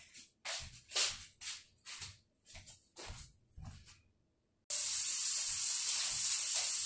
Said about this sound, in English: I have all 12 little patties in the 12-inch skillet, and they fit perfectly in there.